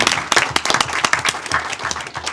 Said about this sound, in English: I just really want to give a round of applause to all those people